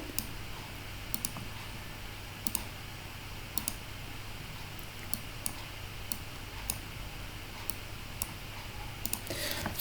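A computer mouse clicks while the pen tool is used in Photoshop, giving sharp, quiet single clicks spaced about a second apart over a low hum, with a slightly louder rustle at the very end.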